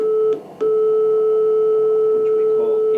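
A telephone exchange's number unobtainable tone from an old switchboard room in a telecom museum: a steady, loud electronic tone held almost continuously, broken by one short gap near the start.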